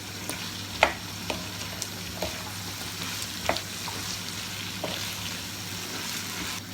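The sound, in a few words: stirring small cubes frying in a pan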